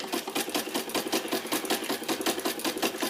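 A sewing machine stitching a handkerchief runs in a fast, steady mechanical rhythm of rapid repeating clicks and whirs, close and continuous throughout.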